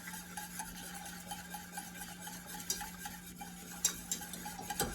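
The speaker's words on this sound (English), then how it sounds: "get that whisking around to get that flour broken up" A whisk steadily stirs flour into broth in a pot, making a faint, continuous swishing and scraping with occasional light clinks against the metal. No one speaks.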